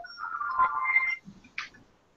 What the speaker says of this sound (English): that's my phone alarm.